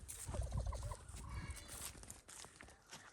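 Roosters are herded back into a pen, with low clucking and scuffling close by and a few sharp calls over a busy, shuffling background.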